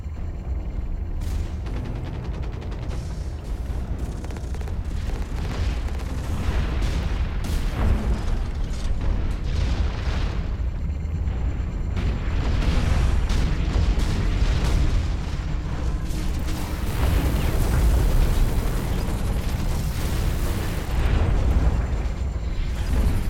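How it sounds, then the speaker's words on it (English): Continuous gunfire and explosions from the Hawken mech combat game, dense booming blasts and mechanical clatter rolling on loudly without pause for over twenty seconds. "I just like shooting the guns and watching them go."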